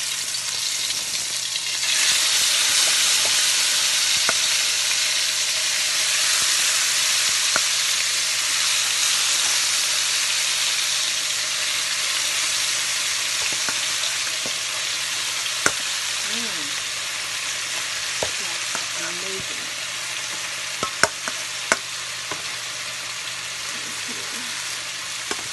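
Shrimp sizzling steadily in a hot frying pan, a loud continuous crackling fry that swells after the first couple of seconds, with occasional clinks of utensils and faint scraping near the end.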